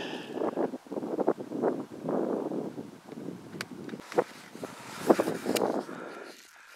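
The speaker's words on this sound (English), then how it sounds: "It's quite windy." Gusty wind buffets a camcorder microphone partly shielded by a hand on an outdoor countryside walk, producing uneven rumbling bursts that rise and fall throughout.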